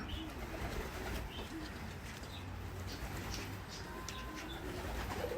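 A male pigeon coos softly in low, throaty murmurs against a steady background hum, with faint chirps scattered throughout.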